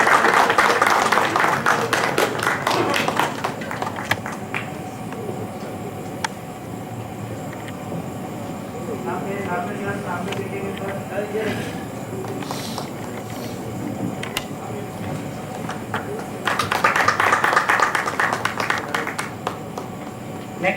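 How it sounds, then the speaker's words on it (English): Audience applause at a medical conference, bursts of dense clapping at the start and again near the end, with a quieter stretch of room noise and faint talk between. "A big round of applause for Dr."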